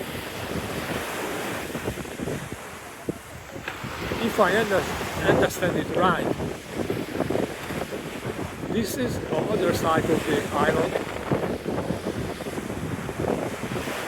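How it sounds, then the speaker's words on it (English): Strong wind buffets the microphone while ocean waves surge and wash onto Momo Beach on Panglao, Bohol, Philippines, a steady roar of surf and gusts throughout, with someone talking over it. "now it's very windy and waves bring out all kinds of crops from the ocean."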